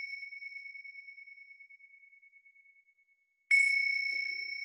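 Meditation bells ring out: a sustained pure bell tone fades slowly over several seconds, then a second bell is struck sharply and sings on, clear and close, with no voices.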